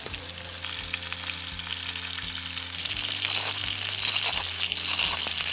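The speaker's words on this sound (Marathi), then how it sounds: "डोकं फ्राय करूया थोडंसं" Fish, with its head, fries in a pan, a loud continuous sizzle and crackle close up, with a low steady hum running underneath.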